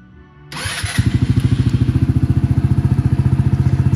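A 2024 Venom X19 200cc automatic motorcycle starts up, its engine catching after a short crank and settling into a steady, rapid idle thump close by, with no voices.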